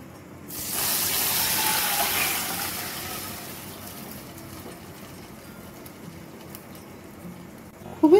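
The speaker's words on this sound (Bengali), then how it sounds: "নারকেলের দুধটা অ্যাড করে দেব।" Coconut milk poured into a hot pan of ash gourd malai curry, a sudden rushing, hissing pour that swells for a couple of seconds then settles into a softer steady simmer, close and without speech.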